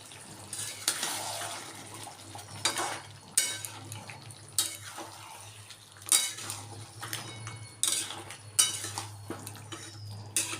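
Mutton sautéing in oil in a pan over low heat, with quiet frying hiss under repeated metallic clinks and scrapes of a spoon against the pan, coming in irregular bursts; no voices.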